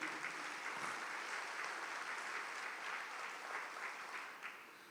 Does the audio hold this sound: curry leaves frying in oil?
no